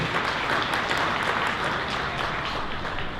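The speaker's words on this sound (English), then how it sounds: "let's give a round of applause to those men and women who do this every day as a thank you" Applause from the audience at a Nobel Peace celebration in Toronto, a dense, steady wash of many hands clapping that holds evenly loud throughout, with no break.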